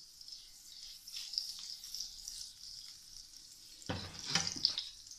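Potatoes sautéing in a pan of butter and sunflower oil, a steady soft sizzle that swells into a louder, busier frying hiss near the end, with no talking.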